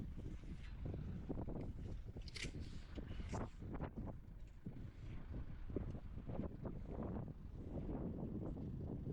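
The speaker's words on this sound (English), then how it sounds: "It is bloody windy." Strong wind buffets an outdoor microphone at a mine site in Murchison, a loud continuous roar with gusty surges throughout, no clear talk.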